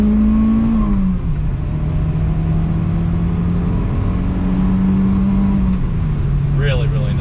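A 1994 Toyota Celica GT-Four accelerating on throttle in second gear, a steady droning engine note heard from inside the car that climbs in pitch, drops briefly at a shift, then climbs again.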